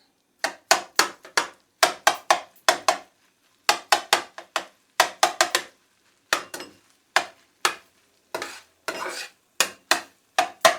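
In a home kitchen, onions go into a frying pan for a simple fried rice, followed by a steady series of sharp utensil clacks and scrapes against the pan. The clacks come in short bursts, close and distinct, with quiet gaps between.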